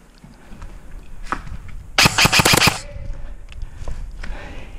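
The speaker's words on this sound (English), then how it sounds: "I can just shoot him in the back" Rapid burst of gunfire from a shooter video game, a tight cluster of sharp loud shots lasting under a second, standing out clearly against quieter background game ambience.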